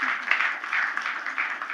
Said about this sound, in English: Let's give Namita a big round of applause.